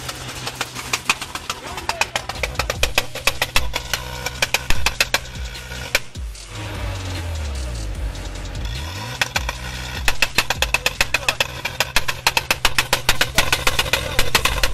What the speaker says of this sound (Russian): Да прочищать выхлопную трубу.